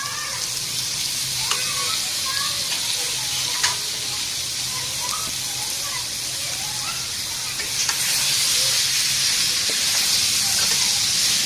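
Bhakhra paste frying with dal added, a steady broad sizzle and hiss running throughout, close and even, with a brief stir clatter and a louder surge of sizzling near the end; no talking.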